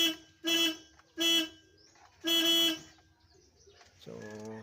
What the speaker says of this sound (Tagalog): At ngayon hindi ka pa nagbubusina, may busina na.